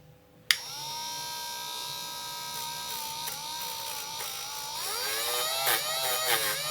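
A Parkside cordless multi-tool fitted with a brush attachment switches on with a click and runs at a steady, high-pitched whine, with its pitch wavering slightly as the brush is worked.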